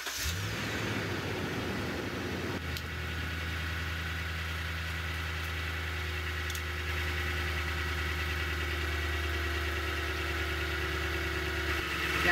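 A Toyota Tundra engine idles in neutral during a transmission fluid change, a steady, close, even rumble with a faint light ticking, running on without a break and no one talking over it.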